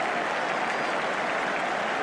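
A stadium crowd at a Manchester United football match roars with sustained applause and cheering after a goal, a dense, loud wash of clapping with no clear voices standing out.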